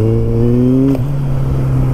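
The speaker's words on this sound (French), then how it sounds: "J'ai mis un vrai coup de gaz" A four-cylinder motorcycle engine revs hard under a twist of the throttle, a close, loud, sustained whine that climbs in pitch for about a second, then drops back to a steady idle rumble.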